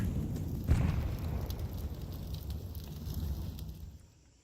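Grenade explosion in the video game Counter-Strike 2, a deep, muffled boom that swells quickly and then rumbles away, fading out over a few seconds.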